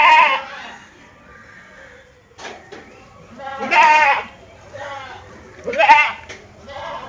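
A Sirohi cross billy goat, a meat and breeding buck of about 27–28 kg, bleats several times in loud, close calls, with quieter sounds in the gaps between them.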